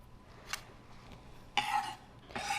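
A knife chops cilantro finely on a board, giving a few sparse, soft, close cuts spaced irregularly, with a slightly longer scraping stroke near the end.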